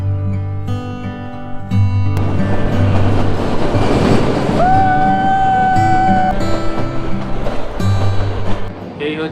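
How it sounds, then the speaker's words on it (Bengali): The Kalka–Shimla toy train rolls along with a close, continuous rumble and rattling carriage noise. A sustained tonal note rises midway through the run. "কালকা থেকে সিমলার এই টয় ট্রেনের জার্নিটা সারা জীবন মনে থেকে যাবে"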